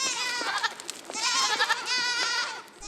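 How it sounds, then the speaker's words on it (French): Miniature goats bleat repeatedly at a forest breeding farm, several clear, wavering calls close by and overlapping, with little other noise. "Ces adorables petites chèvres"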